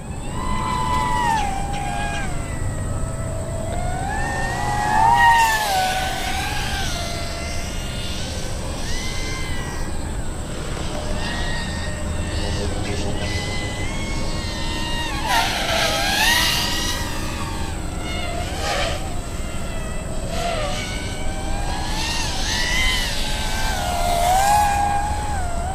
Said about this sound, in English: some people that like to hear what their copter sounds like over the video transmitter audio